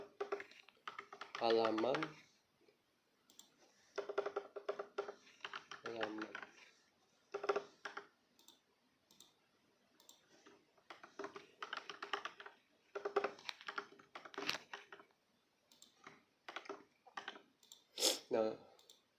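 Computer keyboard keys clicking in short bursts of typing for copy and paste shortcuts, close and fairly quiet, interleaved with a person speaking.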